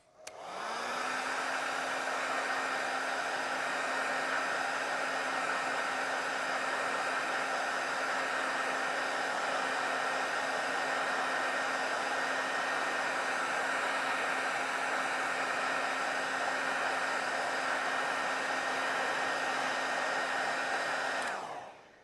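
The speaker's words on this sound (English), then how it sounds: "then we're going to dry now with the hairdryer" A hair dryer blows steadily for over twenty seconds, a loud whooshing rush with a constant motor whine, starting and stopping cleanly with no talk.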